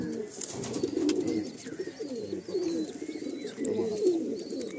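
Madrasi pigeons coo in soft, low, continuous burbling, close by and layered, while being handled for sale, with faint higher chirps and a steady background hum.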